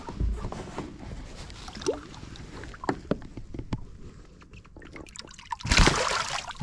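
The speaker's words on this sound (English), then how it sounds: "Oh, man, he splashed the crap out of me." A released bass thrashes in the water beside a fishing boat at a bass tournament, a burst of loud close splashing near the end after a stretch of quieter water and boat knocks.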